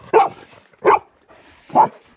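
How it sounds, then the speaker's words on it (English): A dog barks three times in a short, evenly spaced series from a parked overland vehicle, the barks close and clear against a quiet background. "As we pulled up to this, the dogs actually barked at it."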